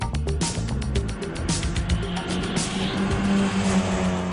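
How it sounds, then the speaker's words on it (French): A Volkswagen Golf GTI 16S with a 1.6-litre Oettinger 16-valve head making 136 horsepower revs hard, with sharp rising and falling engine bursts near the microphone and no talking. "Aussi joli à regarder qu'à entendre, le moteur de la Golf envoûte l'essence."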